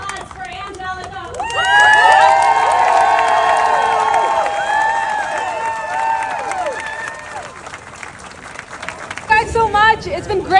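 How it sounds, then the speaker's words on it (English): Crowd at a political rally for democracy clapping and cheering, building to loud, dense applause with shouts over it, then fading, after which a voice speaks near the end. "We need one more round of applause for Angelica."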